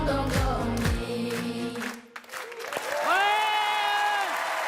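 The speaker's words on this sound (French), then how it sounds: "On peut applaudir les capitaines d'or, mesdames et messieurs!" A studio audience on a French variety show claps for a singing group, a dense burst of applause with a sustained held vocal note carrying over it near the end.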